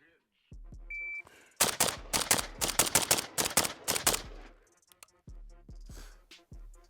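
A rifle fires in full-auto bursts at a range, a rapid string of loud, sharp cracks over a few seconds, with a beep just before and brief talk before and after.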